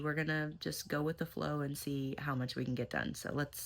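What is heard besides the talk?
No everyday noises stand out.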